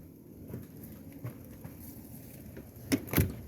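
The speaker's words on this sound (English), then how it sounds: "it's raining a little harder" Light rain pattering softly outdoors, faint scattered drops with a couple of louder taps near the end; no one speaks.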